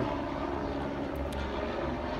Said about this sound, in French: Dans le ciel, cet avion qui survole Baltimore.